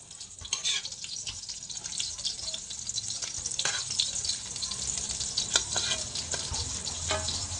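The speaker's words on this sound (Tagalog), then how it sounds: "Ipiprito nga lang pala natin yan ng kaunti" Dried fish (bulad) fries in a pan with a loud, crackling sizzle and scattered sharp pops, while clinks and stirring noises recur throughout.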